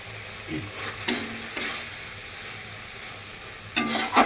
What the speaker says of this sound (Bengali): এটাকে আমি ভালো করে কষিয়ে নেব